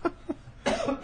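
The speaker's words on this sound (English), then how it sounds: "got a bit of a cough tonight" A man coughs in short bursts, two quick dry coughs followed by a louder, longer fit, close and clear.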